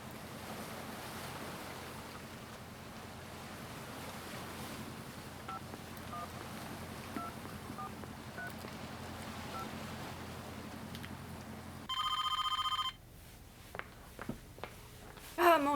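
Telephone tones dialing a call to Colombia, a loud steady tone burst near the end followed by brief clicks, over a long stretch of windy surf-like background noise.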